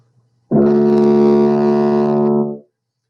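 A tuba sounds a single sustained low D, a steady brassy tone with strong harmonics that starts abruptly, holds evenly for about two seconds and then tapers off, played alone with no talking.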